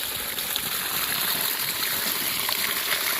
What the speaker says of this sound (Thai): น้ำบาดาลโซลาเซลล์ที่ ผมเพิ่งจะปล่อยออกมา นี้